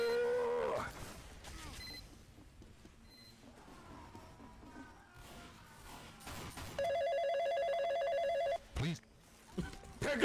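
A telephone rings in the Five Nights at Freddy's video game, a sustained electronic ringing tone lasting a couple of seconds, heard among loud game noise and voices.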